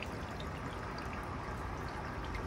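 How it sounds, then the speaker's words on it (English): Water leaking and trickling from a homemade hydroponic vertical grow tower, a soft steady dribbling and pouring sound, faint and continuous with no voices. "We got another leak here again."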